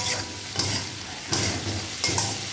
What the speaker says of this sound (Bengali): এবার এগুলোকে ভালো করে নাড়বো, ভাজবো, লাল লাল করে ভেজে